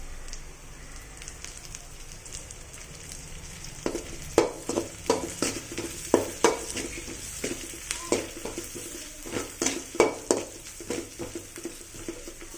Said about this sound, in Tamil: வாசனைக்கு கருவேப்பிலை போட்டுக்கலாம் ஃப்ரெண்ட்ஸ்